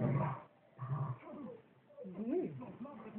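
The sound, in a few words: small dog barking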